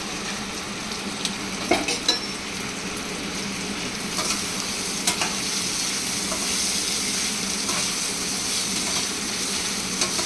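Rice for basanti pulao fries in hot oil in a pan, giving a steady, close sizzle with a few scattered clinks and scrapes of stirring.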